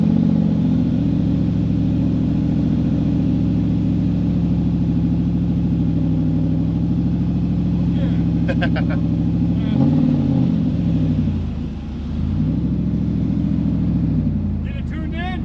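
An LT1 V8 in a third-generation Camaro with a sticking throttle idles and revs steadily, a deep, loud engine drone with a brief dip near the end, while people talk close by.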